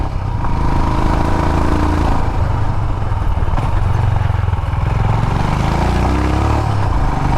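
A 2020 Royal Enfield Himalayan motorcycle riding along narrow, twisty country lanes with gravel on the surface, its steady single-cylinder engine thrumming close and continuous under wind rush.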